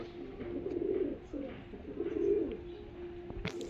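Pigeons for sale give soft, low rolling coos in two short phrases, close and fairly quiet over faint background noise, with a brief sharp sound at the end.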